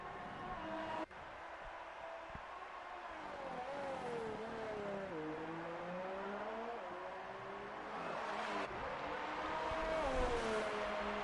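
Formula Euro race cars in the WSR Formula Euro Championship Brazilian Grand Prix sim race, engines whining steadily with rising and falling pitch as they cross the line, a continuous loud drone for the whole stretch.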